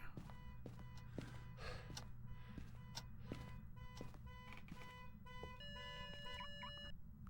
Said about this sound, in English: Oh, the garage car alarm's going off again.